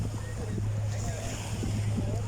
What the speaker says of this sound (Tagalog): Lakas ng alon, ang ganda ng alon.